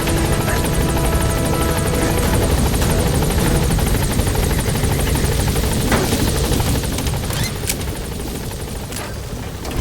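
Pequod, the military transport helicopter from the video game Metal Gear Solid V: The Phantom Pain, lifting off and gaining altitude, its loud steady rotor thump and turbine whine filling the scene without pause, easing slightly toward the end.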